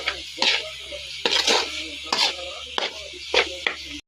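Pork and shrimp paste (alamang) being stirred in a pan: irregular scrapes and clatters of a utensil against the pan, set apart by short pauses over a low background hum.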